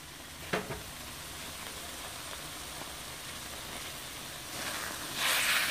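Shrimp paste (kapi) frying in a pan at home, a steady soft sizzle with a few sharp stirring clicks near the start and a louder hiss swelling at the end.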